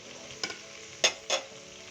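Chicken stir-frying in a pan for Pakistani-style Chinese rice: a steady soft sizzle with three sharp scraping stirs of a utensil, close and fairly quiet, no talking.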